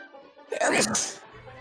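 A single sharp human sneeze, close and loud, gathering briefly before bursting out, with a little background noise before and after.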